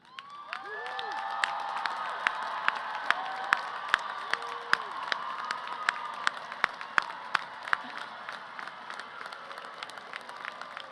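University commencement crowd of graduates standing to clap and cheer, a broad, steady roar of applause with whoops and shouts and sharp individual claps popping out, while a voice carries over the noise at moments.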